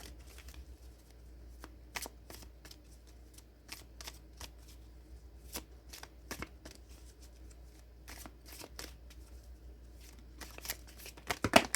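Tarot cards shuffled by hand, giving a steady run of soft riffling and sharp card snaps over a faint low hum, with a few louder flicks near the end and no talking.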